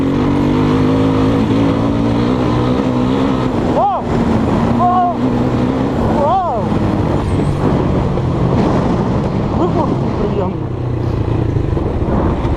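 A Geon Scrambler 250 motorcycle with 12,000 km on it rides along, its engine droning loudly up close with pitch sweeps as gears shift, under continuous wind noise, while a rider talks throughout.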